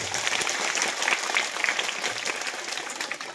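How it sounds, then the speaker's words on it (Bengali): Students at a school drama performance clap for the teacher and student actors, a dense, loud round of applause that holds steady and thins slightly toward the end. "আমি ছাত্রছাত্রীদেরকে বলবো রানা প্রতাপ স্যারের জন্য এবং বাকি যারা অভিনয় করলো তাদের জন্য একটা জোরে হাততালি দেব।"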